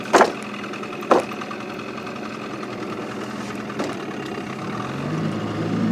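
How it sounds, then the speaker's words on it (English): A small boat motor runs in weedy swamp water in Maine, a steady low droning hum with a few sharp knocks and clunks scattered through it. "That motor picks up them weeds like a magnet."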